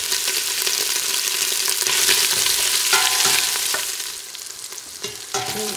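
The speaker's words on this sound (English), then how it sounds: "Put it on medium, high. We're going to brown these." Andouille sausage browning in extra virgin olive oil over medium-high heat, a loud continuous sizzle with occasional clinks and scrapes of stirring close by, no voices.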